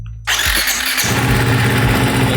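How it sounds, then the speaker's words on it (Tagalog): A Ducati Hypermotard 698 Mono single-cylinder motorcycle starts after a click, the starter cranks briefly, then the engine catches and settles into a loud, close, lumpy idle. "Then kung bubuksan niyo yung motor,"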